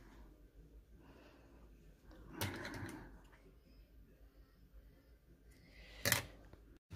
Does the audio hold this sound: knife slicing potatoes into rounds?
no